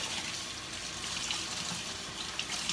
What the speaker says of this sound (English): I'm just hanging this over the top of my my faucet just so it can drip into the sink.